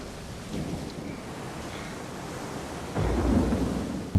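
Steady rain falls over a low thunder rumble that swells in the second half, ending with a short sharp crack.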